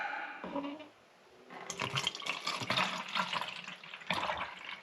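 Thick water, mixed for tie-dyeing, is poured into a bottle with a soft gurgling, splashing flow that starts after a brief pause and runs fairly steadily with slight bubbling, close and moderately quiet.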